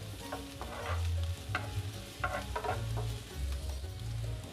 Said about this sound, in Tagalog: Lalagay ko na yung bawang